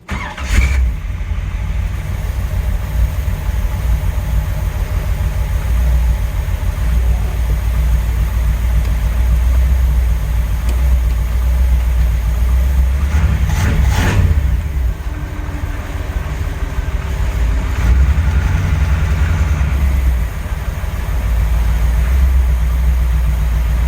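A 1984 Camaro Z28 with a budget 383 stroker V8 on its first drive in 17 years, a loud continuous low engine rumble throughout, swelling briefly mid-way, with no talking.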